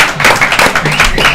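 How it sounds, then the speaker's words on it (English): A crowd claps and cheers for a high school football team, the Sabino High School Sabercats: a short, dense burst of applause mixed with voices. "I want to just make sure everyone give a big round of applause to Sabino football."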